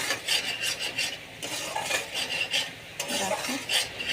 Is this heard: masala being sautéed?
yes